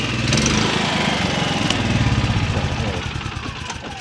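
A Champion 7000-watt inverter generator engine runs close by with an uneven, sputtering rumble that wavers and begins to falter as it chokes out, a voice speaking over it.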